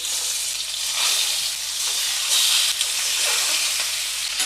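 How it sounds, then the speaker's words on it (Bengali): Chicken drumsticks go one by one into hot oil in a pan, setting off a loud, continuous close sizzle with bursts of crackling spatter that swell as each piece lands. "এবার একটা একটা করে লেগ পিসগুলো আমি এর মধ্যে দেবো।"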